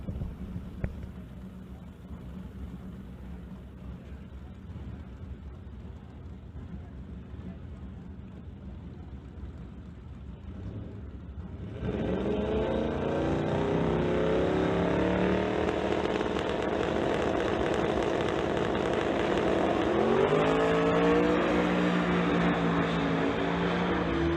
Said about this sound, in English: Ivan Kirkovic Running up in the 2012 Ford Mustang for Ken Specialty Auto, Lund Racing, and Jawanda Motorsports